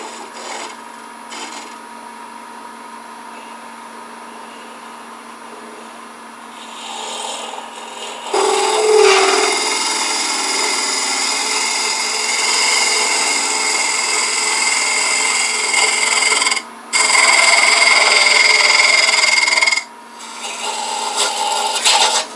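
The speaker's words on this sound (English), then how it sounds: "negative rake scraper. That is, it's ground on two sides, and just take a pass up the side." A negative rake scraper smooths a turned wooden pencil pot on a lathe: a soft spinning hum at first, then a louder steady rasping scrape of the tool against the wood, stopping and starting briefly near the end.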